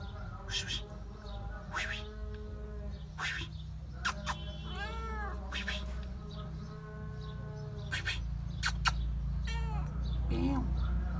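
A pregnant cat meows several times, short clear calls spaced apart over a low steady hum, with a person speaking softly between them.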